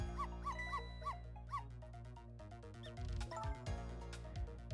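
Small dog barks and yips in quick bursts in the video game Ghost Trick: Phantom Detective, over a steady synthetic musical backdrop, with electronic tones throughout.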